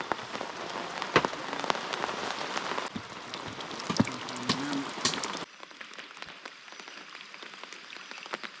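Steady rain falling at night outdoors during fishing, a dense hiss with scattered drops that turns quieter and thinner partway through, no voices.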